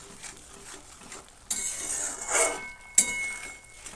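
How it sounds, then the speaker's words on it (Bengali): A spoon stirs vegetarian spinach curry in a pan, making a series of scraping strokes and metallic clinks, with one sharp clink near the end. The sounds are close and there is no talk. "ভালো করে মিশিয়ে নিচ্ছি"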